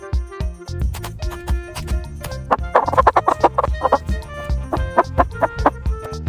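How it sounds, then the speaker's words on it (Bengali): A hen clucking in a series of short, choppy calls, close and prominent over steady background music. "হেনকে বাংলাতে মুরগি বলা হয়"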